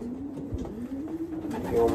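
Racing pigeons that competed in a Florida pigeon derby coo softly and steadily throughout, a low continuous murmur close by with no talk.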